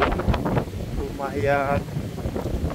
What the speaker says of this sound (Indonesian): Oh, anginnya udah mulai kencang.